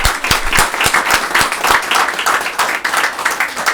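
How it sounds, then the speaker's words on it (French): Audience applause at a talk on inspiring women's journeys, steady dense clapping from a room full of people, loud and near, with no voices over it. "Moi, je voudrais vous applaudir, vous, parce que vous êtes là et malgré tout, vous écoutez."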